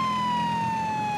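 A Chicago PD Crown Victoria police car's siren wails in GTA 5, a loud steady electronic tone sliding slowly downward over low engine hum.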